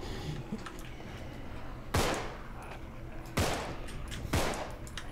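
Gunfire at a SWAT zombie in the survival horror game Contagion: three sharp, loud shots spaced about a second and a half apart over a low ambient background.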